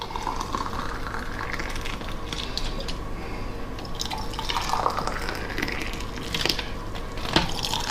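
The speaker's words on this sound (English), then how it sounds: "boil the kettle, stick the boiling water in." Boiling water from a kettle poured into empty glass jars being prepared for strawberry jam, a steady trickling, dripping stream with sharper splashes and clinks near the end, close and fairly loud throughout.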